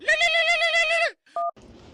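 A phone rings with an incoming call: a loud, close, wavering tone lasts about a second, followed by a brief pause and a short electronic beep.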